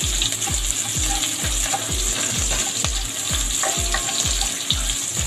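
Onions sizzle steadily in a hot pan for chicken binagoongan, with a loud continuous frying hiss and a regular rhythmic scraping of a spatula, about two strokes per second, close up and alone.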